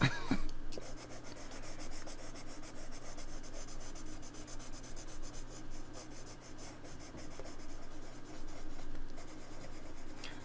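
A wax coloured pencil is worked back and forth across paper in a steady, dense scratching rub, close and quiet, with no voices.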